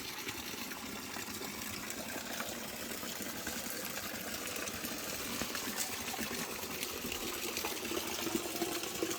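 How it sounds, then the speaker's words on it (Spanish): A river flowing past orchards and a pomegranate tree on a village walk, a steady broadband rush of water that runs continuously and fairly evenly throughout, with no voices. "Aquí está el río."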